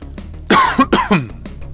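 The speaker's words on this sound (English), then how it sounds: "As I cough." Two harsh coughs close to the microphone, each breaking into a quick raspy double burst, with quiet background hum between them.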